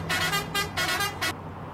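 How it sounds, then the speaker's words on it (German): A Mercedes-Benz Axor truck horn in Euro Truck Simulator 2 sounds in four loud, blaring honks of uneven length in quick succession, close and clear over a low engine rumble. "Ja, ja, ich soll aufhören mit Hupen"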